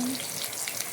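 Steady, close sizzling of fish frying in hot oil, a dense crackling hiss with tiny pops throughout.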